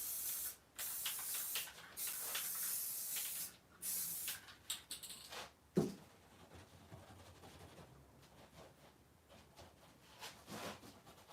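Spray paint cans hiss in repeated bursts while making abstract splatter art, several long loud sprays at first, then shorter quieter puffs with pauses between.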